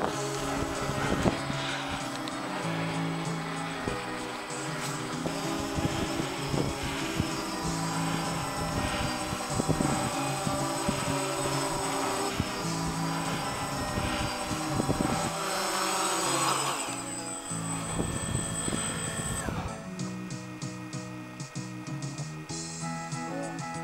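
A Walkera QR SpaceWalker octocopter with eight motors descends to land, its rotors producing a steady, loud, continuous buzzing drone with layered tonal whine throughout, shifting slightly in pitch near the end.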